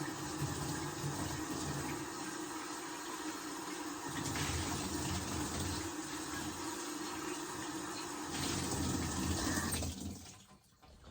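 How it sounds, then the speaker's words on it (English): Homemade hot sauce from garden peppers pours into a big jar in a steady, continuous stream for about ten seconds, with gurgling splashes, before it tapers off and stops. "I think I'm going to pour it all back into one of these big jars."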